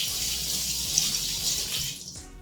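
Carrots rinsed under a running kitchen tap: a steady, close hiss of flowing water that tapers off as the tap is shut at the end.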